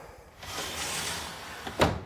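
A storm door with a self-storing screen is slid and operated, giving a soft, drawn-out sliding rush followed by a brief sharp clack near the end, close and alone.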